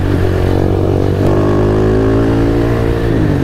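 Motorcycle ridden at night across a high bridge, its engine droning steadily and loudly up close with a continuous rumbling tone and slight rise in pitch, no voices.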